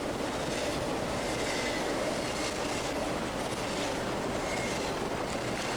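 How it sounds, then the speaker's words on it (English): A long train rumbles past steadily and continuously, a dense broadband roar with faint rail clatter throughout, close and loud. "Oh, this is a very long train."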